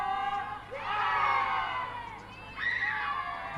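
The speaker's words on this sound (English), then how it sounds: "The crowd's right behind the Dragon Ladies here." Spectators cheer at a women's T20 cricket match between Myanmar and Bhutan: two loud swells of shouting and whooping from a large crowd, rising, fading, then surging again.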